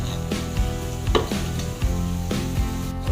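Sword beans being sautéed in a pan with leftover chicken lechon, with steady close sizzling and frying broken by repeated clatters and stirring knocks of a utensil against the pan, no voices.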